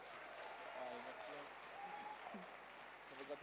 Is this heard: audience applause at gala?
yes